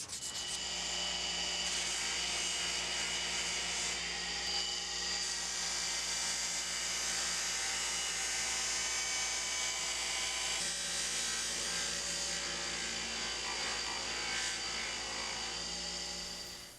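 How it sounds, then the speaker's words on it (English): Powered buffing wheel polishing knife handle scales for a gyuto, a loud continuous whirring drone with a steady motor tone and light rubbing texture as the work is pressed against it, close by and unbroken. "I will take them over to the buffing wheel and buff them out"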